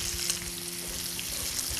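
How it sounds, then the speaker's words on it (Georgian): Butter melting in a hot frying pan hisses with a soft, even sizzle. It is faint and steady throughout the short moment, with no voices. "მეც აქ ცოტა კარაქს უკვე ჩავაგდებ ტაფაში."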